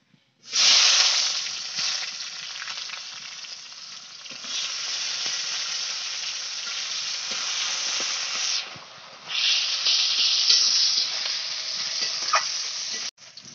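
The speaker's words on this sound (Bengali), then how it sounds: "এখন দিয়ে দিলাম ডুমো ডুমো কাটা পেঁয়াজগুলো তেলের উপরে" Diced onions and a dried red chilli hit hot oil in a village kitchen pan, a loud bright sizzle that bursts in at once and hisses steadily, dipping briefly midway before surging again and cutting off.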